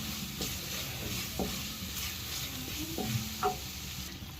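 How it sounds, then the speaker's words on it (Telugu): Boiled taro frying in masala sizzles steadily and softly while a utensil stirs it, with a few light scrapes against the pan. "ఆ తర్వాత మనం ఉడకపెట్టుకున్న చామదుంపల్ని వేసి కొద్దిసేపు ఈ మసాలాలో వేగనివ్వాలి."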